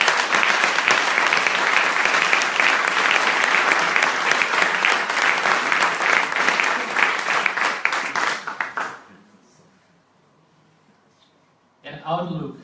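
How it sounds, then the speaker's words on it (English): Audience at a makeathon presentation event claps loudly and steadily for team members standing on stage, a dense sustained applause that fades out near the end, followed by a brief burst of voice. "please applause to them as well"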